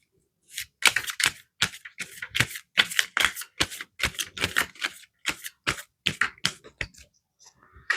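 Tarot cards shuffled by hand in quick, crisp riffling bursts, each a flurry of papery flicks with short pauses between, close and fairly loud with no talking.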